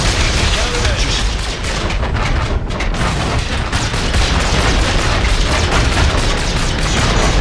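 Rapid, dense gunfire blasts nonstop in the shooter video game Call of Duty Infinite Warfare, with loud layered bursts and booming impacts filling the whole stretch.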